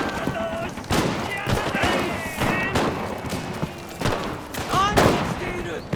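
Rifle and machine-gun fire in the PS5 game Enlisted, on a Pacific War invasion map at Alligator Creek, crackles in scattered sharp bursts at moderate distance, with game voices calling out between shots.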